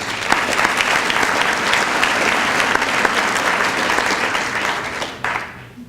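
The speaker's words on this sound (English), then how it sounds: "Let's give them a big round of applause, please." An audience at a Junior Achievement Hall of Fame 50th anniversary celebration gives a big round of applause. The clapping is loud, dense and steady, then fades toward the end.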